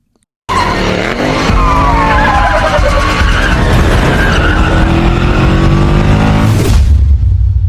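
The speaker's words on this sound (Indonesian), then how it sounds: "mengemudikan mobil dengan sangat ugal-ugalan" A car driven recklessly in a film scene skids with long, loud tire squeals over a roaring engine, starting abruptly and sustained for several seconds before a final screech.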